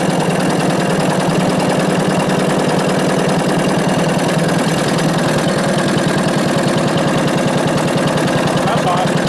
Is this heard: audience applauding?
no